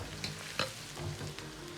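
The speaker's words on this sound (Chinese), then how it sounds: "油热后放入切好的豆角，保持中火炒出豆角里边多余的水分，炒出香味。" Chopped green beans sizzle in hot oil over medium heat, a close continuous frying crackle broken by a few sharp spatula scrapes and stirs, with no talking.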